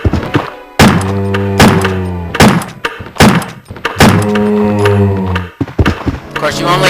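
Gunshots fired at a zombie in the original Resident Evil video game: several loud, sharp booming blasts in an uneven series, each ringing out with a short echoing tail.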